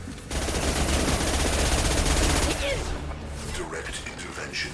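Dense, sustained automatic gunfire from a Mass Effect 2 final boss fight rattles loudly for a few seconds, then drops to scattered shots and effects.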